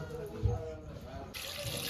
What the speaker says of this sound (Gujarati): હવે છે ને નાખવાનું છે આમાં આપણે પાણી